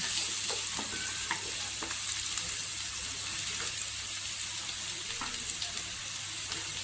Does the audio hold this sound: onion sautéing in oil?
yes